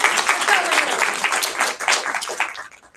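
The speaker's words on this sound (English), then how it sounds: "Okay, round of applause." An audience at a panel session claps for a few seconds, a dense patter of many hands fairly close that fades out toward the end, with some voices mixed in.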